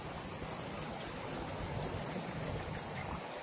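Floodwater flows and trickles through waterlogged streets in Mathura after continuous rain, a steady broadband rush with no voices, close and even throughout.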